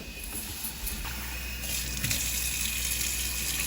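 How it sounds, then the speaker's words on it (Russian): Running water pours and splashes steadily onto rice being rinsed for sushi in a container, a continuous gushing that grows slightly louder partway through. "рис промываем водой"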